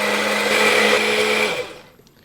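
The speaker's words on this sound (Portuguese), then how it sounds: "Pode ser um liquidificador." A kitchen blender whirs loudly, blending grated cheese and water into a cream for cacio e pepe, a steady high motor whine that winds down and stops near the end.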